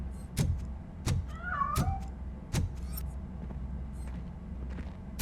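A cat meows in the video game RoboCop Rogue City, a short rising and falling cry heard once near the middle, surrounded by several sharp footstep-like thuds over a low ambient hum.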